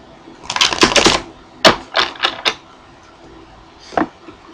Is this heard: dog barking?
no